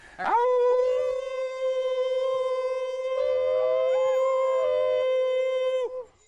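New Guinea singing dogs at an animal sanctuary howling in a long, sustained, tonal wail with wavering pitch, loud and close, holding for several seconds before tapering off.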